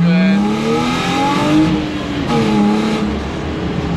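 A BMW 325i engine revs and whines up and down in pitch while drifting, loud and close, with a rough rumbling drone throughout and no pause.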